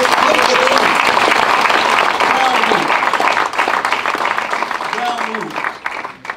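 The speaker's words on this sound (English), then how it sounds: "Give yourselves a round of applause." Loud, dense applause from a large audience fills the room steadily, with cheers and scattered voices rising over the clapping before it starts to thin.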